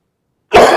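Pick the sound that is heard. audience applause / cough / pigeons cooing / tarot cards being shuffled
cough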